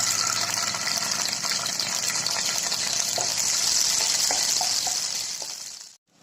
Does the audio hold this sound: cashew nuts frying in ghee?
yes